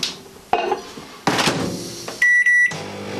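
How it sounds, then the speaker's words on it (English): A microwave oven heating scrambled eggs: a door thunks shut, buttons clack, a short bright beep sounds, then the oven's hum starts, all close and fairly loud with no voices. "Just put it in the microwave,"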